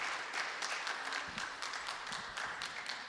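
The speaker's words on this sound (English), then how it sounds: "give themselves a round of applause to all the teachers" Soft, steady applause from a school board meeting audience in a school hall, clapping for teachers, continuous and fairly distant with faint scattered individual claps.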